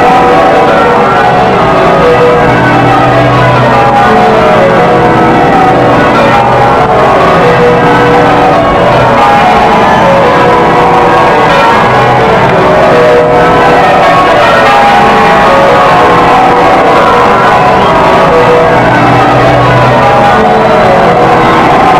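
Church bells ring continuously over a dense, loud wash of crowd noise and cheering at a royal procession for King Charles, with no pause throughout.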